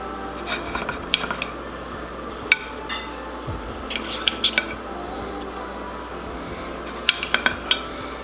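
A knife works through smoked country style pork ribs on a plate, with scattered clinks and scrapes of cutlery against dishes over a quiet background, close and soft.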